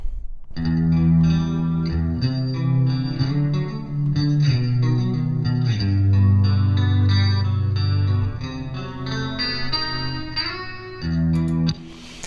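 Clean electric guitar playing a chordal phrase through an amp, with a shimmering chorus-like effect and light reverb, sustained notes ringing throughout.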